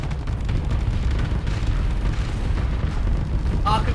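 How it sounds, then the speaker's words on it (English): Triplex beam cannons firing during a Starsector fleet battle against fighters, a dense continuous roar of weapon fire and booms with a bright zap near the end, under a player's commentary. "Triplex beam cannons already firing off, Groms engaging these fighters"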